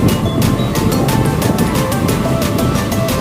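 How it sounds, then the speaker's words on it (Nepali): Rain starts falling on a car driving through Kathmandu, a loud, close, continuous wash of noise with faint regular ticks running through it. "ओहो पानी पर्यो"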